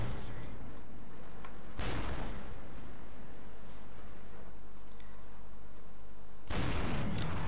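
Two heavy tank cannon shots boom in World of Tanks, a Tier 4 B1 heavy tank battle against a Panzer 1C, each a loud sudden blast with a decaying tail, spaced several seconds apart over low game ambience.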